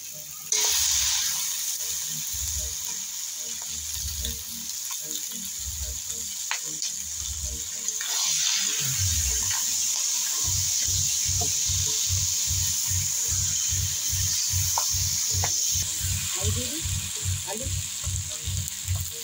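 Chicken poured into a hot pan over a wood fire sizzles and fries loudly, a bright hiss that starts and then swells midway, with rhythmic stirring or scraping knocks underneath.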